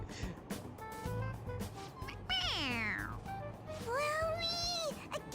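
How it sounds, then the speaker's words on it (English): A toy cat from Persona 5 Royal meowing when pressed on its head gives two drawn-out, warbling meows, the first falling sharply in pitch and the second rising and wavering, over a low background hum with faint voices murmuring. "It meows when you press on its head."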